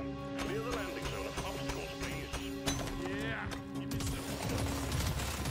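Rapid gunfire from the top-down mining shooter Deep Rock Galactic Survivors, a steady stream of quick repeated shots with game effects and music, a voice talking over it.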